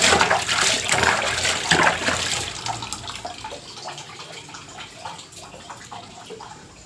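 Household supply water left running from a tap for a long stretch: a loud, splashing gush that gradually eases to a softer steady flow, with no voices.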